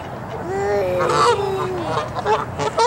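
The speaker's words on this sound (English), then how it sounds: "Duck." A duck honking and quacking nearby, a few nasal calls over a noisy outdoor background.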